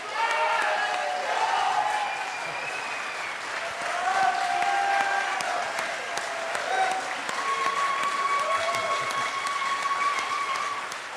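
Audience applause for congressional debate candidates Adam Gray and John Duarte fills the room in a steady, sustained wash of clapping, with a voice faintly audible beneath it.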